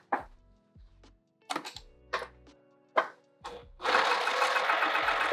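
Short bursts of clicks and thunks as fabric is set under a sewing machine, then a steady loud whir as it stitches down the edges of bucket tote strap tabs, close up.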